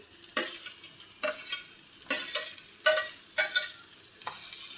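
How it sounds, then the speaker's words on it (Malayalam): Chopped tomato fries in a pan with sautéed onion for a prawn roast. A spoon stirs it in five rhythmic scraping strokes over a soft, continuous sizzle, close up and with no talking. "നമുക്ക് ഒരു തക്കാളി ചെറുതായി അരിഞ്ഞെടുത്ത് ചേർത്ത് കൊടുക്കാം."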